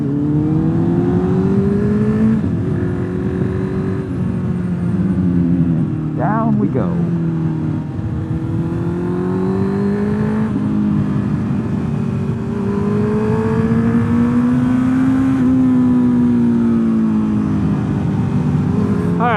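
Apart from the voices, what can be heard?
CB650R motorcycle with loud aftermarket exhaust accelerating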